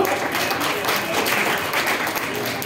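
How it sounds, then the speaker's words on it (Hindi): Children applaud an honored guest at a Quran recitation competition celebration in 2023, a dense, steady patter of many hands clapping for the whole stretch without letup. "टीम जज्बा काइंडली क्लैप"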